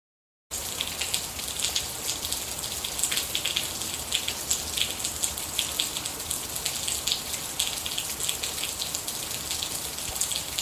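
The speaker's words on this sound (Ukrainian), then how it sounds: "Іде дощ." Steady rain falling, a dense hiss of drops with faint patters throughout, continuous and fairly close, no voices.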